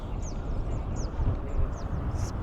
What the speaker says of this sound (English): there is the loudest bird ever